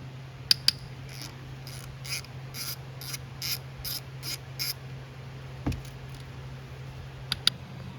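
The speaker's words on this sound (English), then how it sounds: "You got 3 8 millimeter bolts here to remove." A ratchet works 8 mm bolts loose from the oil filter cover of a Honda Foreman 500 ATV, giving a quick run of evenly spaced clicks followed by a few isolated sharper clicks and a metallic tap.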